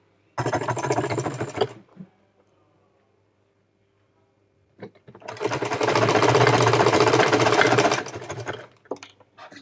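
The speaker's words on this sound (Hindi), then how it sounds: "इसी तरीके से इसमें भी मैं एक सिलाई लगा लेती हूँ।" An electric sewing machine stitches cigar pants in two fast, continuous runs: a short burst at the start, a silent pause, then a longer steady run before it stops.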